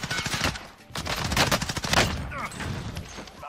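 Rapid automatic gunfire from a gun in Warzone, loud and close, rattling in dense bursts with a brief pause before a second long volley, mixed with game effects.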